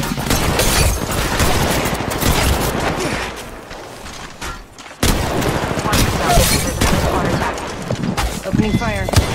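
Gunfire in Apex Legends Mobile: dense bursts of automatic fire and sharp shots crackle close and loud, pausing briefly before resuming, with game voice lines and mechanical clicks mixed in.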